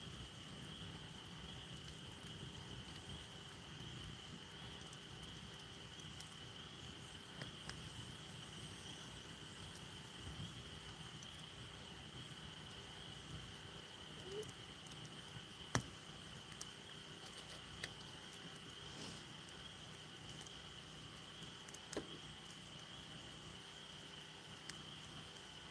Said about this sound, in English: Listen to the frogs and the crickets and the fire.